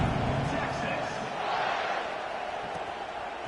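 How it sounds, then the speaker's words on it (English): A football stadium crowd at an Auburn versus Texas game roars after a scoring drive, a broad continuous cheer filling the whole stretch, loud at first and easing slightly, with a commentator talking over it. "this crowd is feeling themselves after that last drive"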